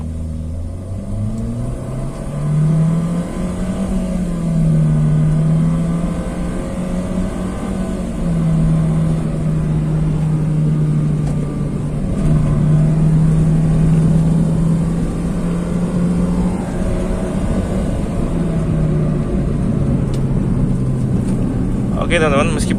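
Honda Jazz CVT car accelerating hard from inside the cabin: a loud, sustained engine drone that climbs and then holds at high revs with small dips, under occasional talk.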